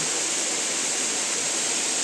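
Nalkeshwar waterfall pours down in a steady, loud rush of broadband noise that stays constant throughout, with no voices.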